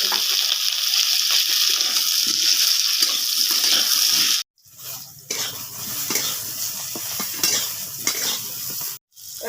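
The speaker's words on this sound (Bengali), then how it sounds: "কাঁচকলাটাকে অল্পই ভেজে নেব।" Green banana pieces frying in mustard oil in a hot wok make a strong, steady sizzle. Metal spatula clatter and scraping come through as the pieces are stirred, with two brief silent gaps.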